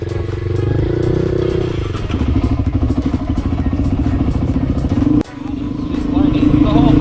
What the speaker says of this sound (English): We put her on a KTM 50 Senior Pro, and it was also an older bike.